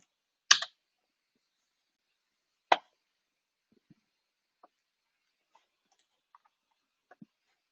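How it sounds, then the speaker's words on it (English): A few sharp key presses on a computer keyboard while typing a short command to start a React development server, two louder taps followed by faint scattered clicks in an otherwise quiet room. "all we have to do is type in npm start"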